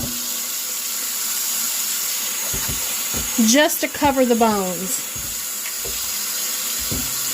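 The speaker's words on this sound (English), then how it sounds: "You will fill it, or I just fill it, full of hot water" Hot water running from a kitchen tap into a pot over beef bones, a steady close rush, briefly changing in pitch as the pot fills, with a person talking over it.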